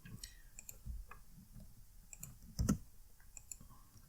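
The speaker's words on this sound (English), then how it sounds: "whenever I pressed enter and started typing in Android" Computer keyboard typing while entering text in Android Studio, a quiet run of irregular clicks and taps with one slightly heavier keystroke near the end.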